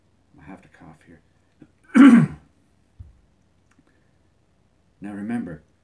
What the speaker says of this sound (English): I have to cough here.